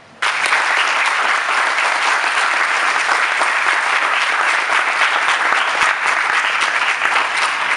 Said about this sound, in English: Let us all clap for them.